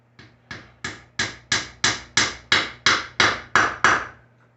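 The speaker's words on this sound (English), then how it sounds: "Take your hammer" A hammer taps a wooden peg into a drilled hole in a block coat rack, giving about a dozen evenly spaced, crisp knocks that grow slightly louder and then ease off.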